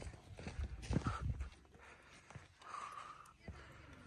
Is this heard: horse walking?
yes